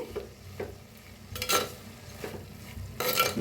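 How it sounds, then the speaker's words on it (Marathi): Moth beans dry-roasting in a clay pot with a little oil, stirred in repeated scraping sweeps over a soft sizzle, close by and fairly quiet, with louder strokes near the end. "थोडंसं तेल वतून मटकी भाजून घ्यायची"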